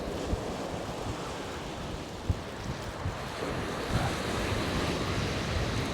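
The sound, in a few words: onshore wind and surf on Chesil Beach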